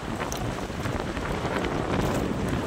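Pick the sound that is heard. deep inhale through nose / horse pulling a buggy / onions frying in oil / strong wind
strong wind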